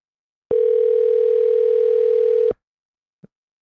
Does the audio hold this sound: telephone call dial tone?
yes